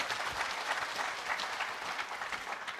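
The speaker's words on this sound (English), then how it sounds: "A round of applause, please, for Patricia Malam." An audience at an entrepreneurial fair session applauds a speaker, a dense, steady round of clapping from many people.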